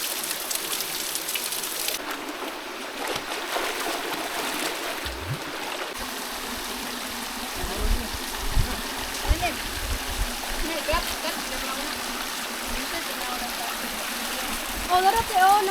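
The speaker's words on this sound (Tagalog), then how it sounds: "Nindot rin kay may mini falls." A small waterfall at the Lantaw Dagat campsite in Davao Oriental, heard as a steady rushing and splashing of water throughout with outdoor background sounds, while people talk over it.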